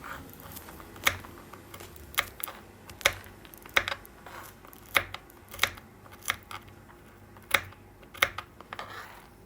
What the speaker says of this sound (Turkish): Cevizlerimizi rondodan geçmeyelim. Bıçak yardımıyla keselim.